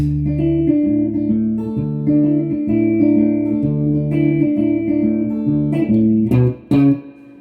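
Guitar playing an arrangement of a song at full tempo, with ringing open strings across the fretboard, a steady fingerpicked bass under melody notes, loud and close, ending on a few final accented notes with no talk.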